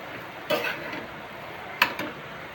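Potato sandwich filling being stirred in a pan, with a couple of sharp utensil scrapes and clinks against the pan over a soft background sizzle.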